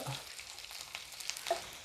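Soft, steady sizzling of shallots frying in hot oil after mustard seeds, with a few light crackles and a faint stir, no voices.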